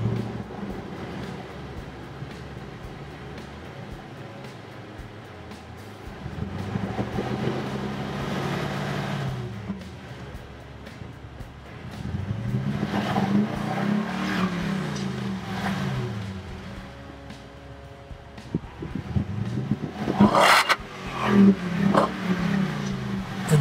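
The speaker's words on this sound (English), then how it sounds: "Now we'd like to give you an idea of what the exhaust sounded like before the installation and after." A 2017 Toyota Tundra with its stock exhaust, before an MBRP cat-back is fitted, idles with a low rumble, then revs up and down several times in swelling sweeps, ending with a sharper burst of rapid throttle blips.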